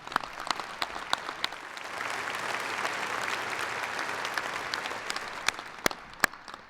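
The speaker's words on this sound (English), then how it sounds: "Let's give the staff and the students that helped here and helped our students a round of applause as well." A spring undergraduate degree ceremony crowd claps for several seconds, a few loud nearby claps standing out over a steady wash of applause from the hall.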